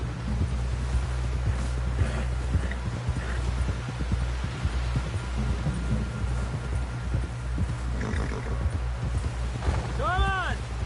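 Horse hooves clip-clop steadily at a gallop in the Red Dead Redemption 2 game, a rhythmic thudding under a steady low hum and background game sound, with a few tonal chirps near the end.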